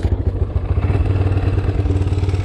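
A 1985 Yamaha YTM 200e three-wheeler's small engine idles steadily and close by, a loud, even low putter with a slight mechanical clatter and no voices.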